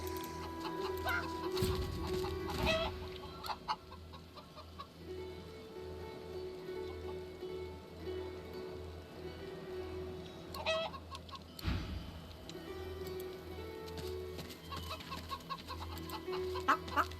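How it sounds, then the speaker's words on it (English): Chickens cluck in the fantasy role-playing game Divinity: Original Sin 2, with steady clucking over a looping game soundtrack and some louder bursts, no talk. "Let's talk to some chickens."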